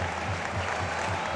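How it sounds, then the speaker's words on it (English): Steady applause from an ice hockey crowd at Braehead Arena during a Braehead Clan versus Cardiff Devils game, a continuous, fairly even wash of clapping that fills the whole moment, with no voices standing out. "still huge applause for Amy going round"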